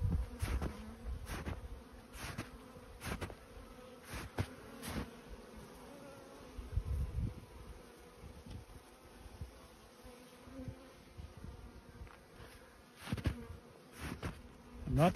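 Honeybees buzzing softly and continuously nearby in snow, with a few sharp clicks and bumps scattered throughout, no voices.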